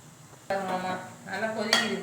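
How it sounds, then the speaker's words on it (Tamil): A metal lid clanks onto a cooking pot of boiling vegetables and dal, a sharp ringing clink that lingers briefly, followed by a second lighter metallic tap, close and clear. "மூடி வைக்கிறேன்."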